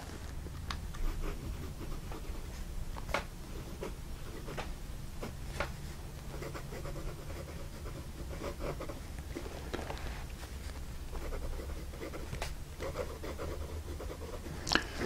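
A Jinhao 991 fountain pen writes on paper: a faint, continuous close-up scratching of the nib, with light ticks and strokes over a low steady background hum.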